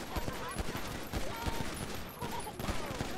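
Rapid bursts of video game gunfire as characters shoot at each other, dense overlapping shots crackling in quick clusters across the whole stretch, loud and close.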